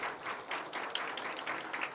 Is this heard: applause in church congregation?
yes